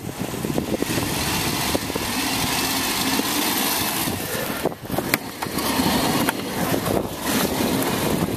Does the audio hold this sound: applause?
no